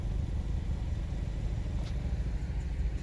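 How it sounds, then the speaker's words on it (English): A Hyundai Veloster N engine runs at a steady idle, giving a close, continuous low rumble with no revving and no voices. "Her car sounds so good."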